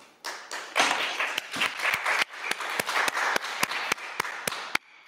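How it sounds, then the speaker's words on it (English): Audience applause after a talk at a citizen science conference session begins as a dense patter of many hands, then thins into scattered, separate claps that fade away near the end. "I hope you were able to hear the clapping."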